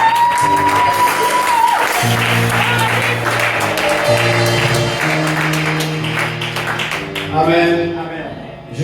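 A church congregation applauds and cheers for Jesus during a worship service, with steady, sustained clapping and crowd noise mixed with music and voices throughout.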